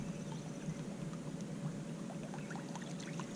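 An Arbogast Jitterbug topwater lure with a metal front lip wobbles and splashes steadily across the water while bass fishing in summer, a continuous gurgling, sloshing chop close by with no talking.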